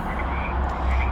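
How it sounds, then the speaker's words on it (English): Dense chorus of frogs croaking, continuous and layered, over a low rumbling background of traffic at nightfall. "You can hear the frogs over the traffic."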